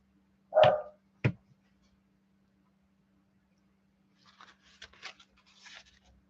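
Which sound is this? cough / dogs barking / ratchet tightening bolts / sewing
dogs barking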